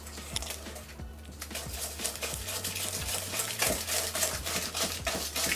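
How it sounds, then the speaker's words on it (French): Batter for a banana tatin, mixed with coconut and a spoonful of cream, being stirred steadily in a bowl, with a repeated light scrape and clink of a utensil against the side at close range, no talking. "On remue à nouveau."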